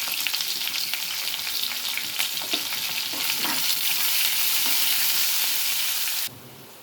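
Sliced onions dropped into hot oil already crackling with tempering spices, a loud broad sizzle that builds and holds steady before cutting off abruptly near the end.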